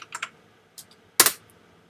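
Typing a search word on a computer keyboard: a few close, crisp key clicks in a short burst, a pause, then one louder keystroke near the end, in a quiet room.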